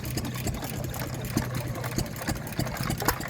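A stationary engine running at an engine rally at Fort Paull Battery, its steady rhythmic chugging and clanking beats close and continuous.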